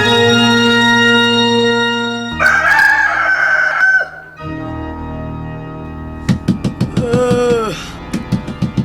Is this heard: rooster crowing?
yes